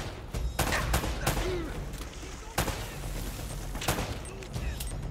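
Gunfire from the video game Uncharted, with several loud, sharp shots spread across the scene over a steady background of game ambience.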